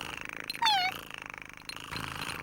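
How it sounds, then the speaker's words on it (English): Polly, a ship's cat, gives a short meow over a soft, steady purr that runs through the brief moment, close and fairly quiet. "Polly's a ship's cat, Pat"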